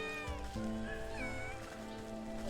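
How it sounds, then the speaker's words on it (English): Several cats in the video game Wytchwood meow in overlapping, drawn-out tonal calls, close and clear over a soft musical background. "Look at all the kitties! So many kitties!"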